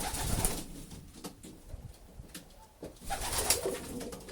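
An old male pigeon makes soft cooing calls close by in a loft, alongside rustling and scuffing, with no talk.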